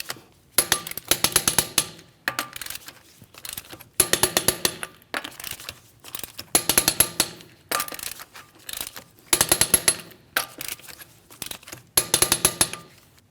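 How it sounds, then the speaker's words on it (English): A torque wrench clicks in repeated bursts while lug nuts are tightened on a Chevrolet Malibu wheel, each burst a rapid ratcheting clatter followed by a short pause, close and fairly loud. "We're going to torque these to that 100 foot-pounds in a crisscross manner."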